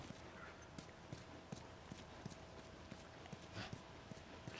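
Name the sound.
horse hooves and whinny in video game The Last of Us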